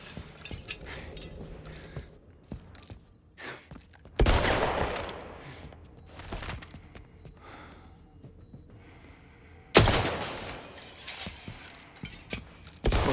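Gunfire in the video game 007 First Light, with two sudden, loud bursts of shots standing out among quieter mechanical clicks and breathing sounds.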